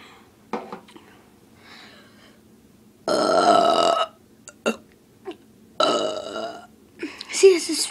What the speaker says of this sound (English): I am about to do the smallest burp in the world.